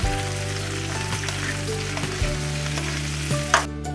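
Vegetables sautéing in a hot pan with a little salt, a continuous close sizzle and crackle with a few stirring knocks and scrapes, fairly loud and steady, with no voices.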